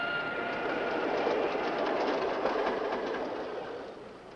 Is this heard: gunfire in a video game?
no